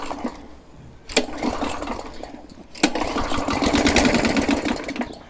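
A small off-grid generator or cogeneration engine is cranked with a couple of sharp pull attempts, then catches and runs with a rough, rising motor hum.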